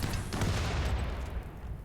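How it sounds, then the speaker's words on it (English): Rapid bursts of hot shot las guns firing in the video game RimWorld form a dense, loud volley of crackling shots and booms that runs almost without a break through the whole stretch. "these hot shot las guns are pretty good"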